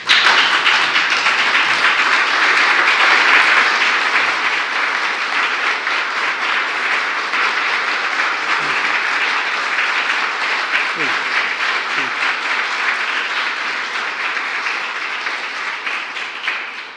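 Sustained applause from a room of Jewish community leaders welcoming President Joe Biden at a roundtable: steady, dense clapping that holds for the whole stretch and tapers slightly toward the end.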